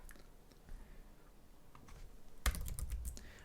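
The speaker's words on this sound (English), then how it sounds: "let me type out here" Quiet keystrokes tap on a computer keyboard, a few sparse clicks early, then a quick close burst of typing near the end.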